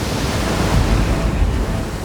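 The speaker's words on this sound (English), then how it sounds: "Waves, wind," Ocean waves and wind at sea make a loud, continuous rushing roar with low surging swells, heard alone.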